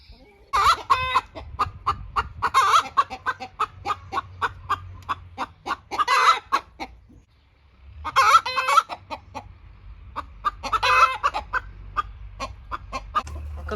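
Hens in a coop cluck loudly and close by, with repeated rhythmic bursts of agitated calls and short pauses between them.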